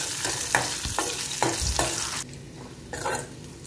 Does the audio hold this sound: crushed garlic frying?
yes